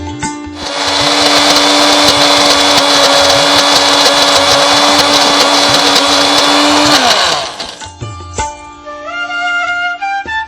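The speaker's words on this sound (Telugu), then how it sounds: "ఇది ఇప్పుడు మిక్సీ చేసుకుందాం" A kitchen mixie grinder whirs loudly and steadily for about seven seconds while blending a ground mixture for a sweet vegetable pulao dish, then winds down and stops, leaving a few faint clinks.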